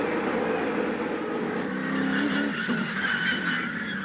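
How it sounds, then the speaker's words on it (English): A NASCAR race car at the Daytona 500 slides sideways with a sustained loud tire squeal and skid over roaring engines, part of a crash sequence in aggressive racing. "it takes is the slightest amount of sideways motion to get that 2 car of Keselowski turning sideways"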